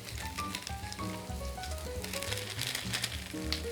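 Onion frying in a pan with garlic, ginger, bay leaf and whole spices such as cardamom and mace gives a steady, close sizzle that runs throughout, beneath a melodic backing tune.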